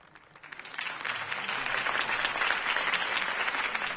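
A crowd in Batman: The Telltale Series video game breaks into applause after a speech, swelling within the first second and holding steady, a dense wash of clapping with no voices on top.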